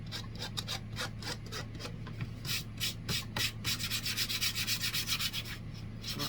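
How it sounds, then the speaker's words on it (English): Light hand sanding of a Dollar Tree decor piece, a steady run of short rasping rubs, repeated quickly and close, over a constant low hum. "I'm just sanding it down just a little bit."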